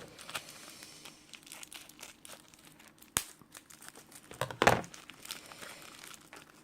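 Plastic packaging crinkles and rustles as it is unwrapped, quiet handling with two sharper crackling bursts partway through, no talking.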